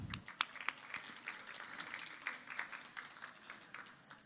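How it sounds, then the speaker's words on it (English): A smallish group applauds at a chamber of commerce business event, scattered sharp claps blending into a soft, moderate patter that gradually thins toward the end. "Can we give them a round of applause?"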